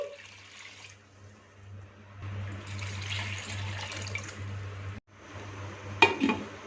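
Water pours and splashes into a pot of goat trotters and head meat, 2.5 litres in a rushing stream that swells in the middle, pauses briefly, then ends with a clink of metal.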